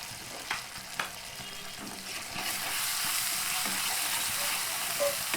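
Mustard paste, garlic, cumin and green chili hit hot oil in a pan. A couple of soft knocks come first, then a loud, steady sizzle takes over, close and unbroken with no talking.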